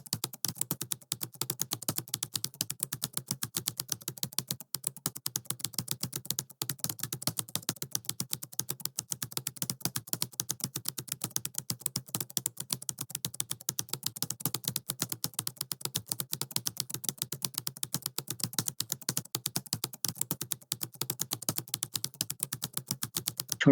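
Steady, rapid typing on a computer keyboard, with dense clicking keystrokes running continuously for over twenty seconds, close and fairly quiet, with no voices.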